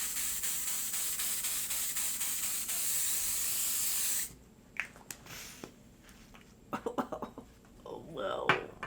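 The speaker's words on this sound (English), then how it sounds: "So I'm just going to finish it off with the L'Oreal 3-Second Setting Spray" L'Oreal 3-Second Setting Spray mists over a made-up face in one long, steady, close hiss lasting about four seconds, then cuts off, leaving quiet handling noises and a few soft vocal sounds.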